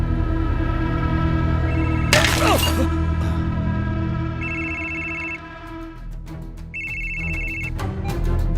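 A Nokia 6600 mobile phone's electronic ringtone beeps in two short tonal bursts over a busy background of clatter and murmur, with a sharp crackling noise earlier.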